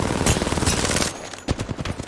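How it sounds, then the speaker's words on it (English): Video game gunfire in a dense rattling burst, loud and close, breaking off briefly and then resuming as sharper separate shots. "They're shooting at me?"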